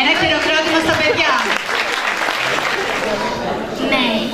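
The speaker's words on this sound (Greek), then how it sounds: "Ένα χειροκρότημα στα παιδιά." An audience at a school tutoring center's Christmas event claps for children on stage, loud dense applause that fades slightly midway, with voices mixed in.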